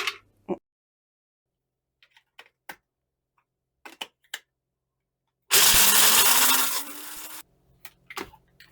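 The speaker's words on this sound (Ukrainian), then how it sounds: "Мигдаль подрібнити у блендері." A blender chopping almonds roars loudly for about two seconds, grinding hard, after scattered light clicks and taps; no talking.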